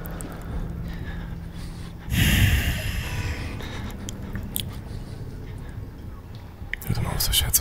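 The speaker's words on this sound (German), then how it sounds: "Hör doch mal auf, so schwer zu atmen." An Outlast game character breathes heavily, with panicked gasps and snorting breaths up close. A German-speaking voice talks over it throughout.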